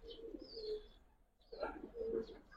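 A Giribaz pigeon coos close by in two soft, throaty phrases separated by a short pause, heard alone in a quiet room.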